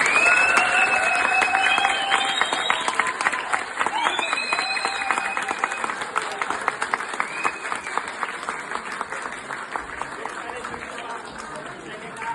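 Sustained audience applause at an Ethiopian gathering with a poetry reading, a dense crackle of many hands clapping that tapers gradually, with voices and cheering mixed in.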